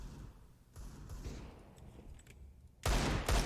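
Rifle fire from an M4 in a CS:GO match at a pro tournament, short bursts scattered under a busy background, ending in a loud close burst of shots.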